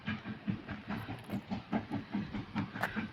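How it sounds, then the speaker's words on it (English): A train running at Fort Edmonton Park gives off a steady, rhythmic clatter of wheels on rails, with faint hissing above it, heard from a moderate distance with no talk. "You can hear the train."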